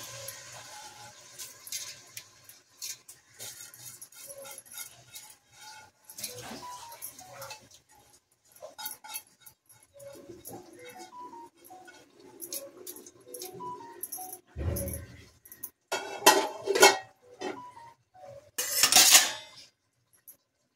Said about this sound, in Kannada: ಇವಾಗ ಅಕ್ಕಿನ ಸೇರಿಸ್ಕೊಳ್ಳಿ.